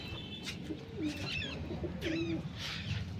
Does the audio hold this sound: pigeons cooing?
yes